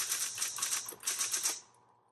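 A 1960s Smith Corona Coronet Electric 10 typewriter typing, a quick run of crisp clacking keystrokes with a brief pause midway, close and alone, ending in quiet.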